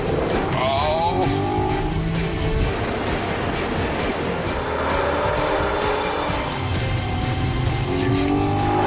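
BMW Z4 engine roaring under hard acceleration on a dry race track, a continuous loud rising drone with tire noise and shifting pitch through gear changes, heard close throughout.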